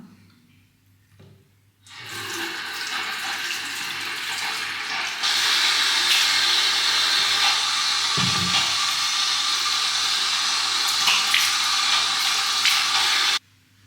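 Water gushes from a bathroom tap during face rinsing, starting abruptly after a brief quiet moment and then running as a loud, steady, close hiss, growing stronger partway through before cutting off at the end; no talking.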